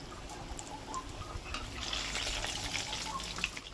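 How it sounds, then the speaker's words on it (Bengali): Layered flour khasta khaja pieces frying in hot oil, a continuous close crackling sizzle with scattered pops and bubbling, steady throughout with no talk. "এগুলো একটা একটা করে ভেজে নেব।"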